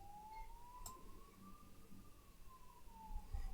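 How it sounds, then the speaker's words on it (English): Ambulance siren outside, heard from indoors: one faint, distant wail swelling and falling in a slow arc over low background hum, with no talk. "Crazy here with ambulances."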